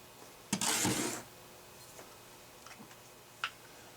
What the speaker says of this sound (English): And a nice torque wrench.